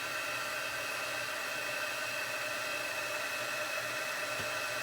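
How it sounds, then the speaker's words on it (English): Heat gun blowing steadily on a Christmas card during heat embossing, a constant loud whirring hiss of hot air that runs unbroken from start to finish, with no voices. "shoot it with the heat gun."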